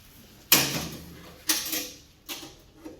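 A crumb door being undone on a Gaser 240 crumbing line, a sharp metallic clunk followed by two fainter knocks and rattles, close by with no talking.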